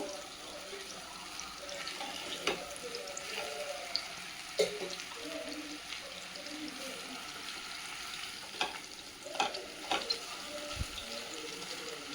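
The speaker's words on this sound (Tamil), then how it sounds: "இதை நல்லா வதக்கி விடுங்க. கிளறி விட்டு எல்லா பக்கமும் வேகிற மாதிரி" Raw plantain pieces sautéing in a kadai, a faint steady sizzle with occasional spatula taps and clinks against the pan.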